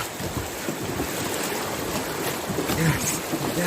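Rushing river water during white water rafting, a steady broadband roar of churning rapids close by with wind buffeting the microphone and a few voices reacting beneath it.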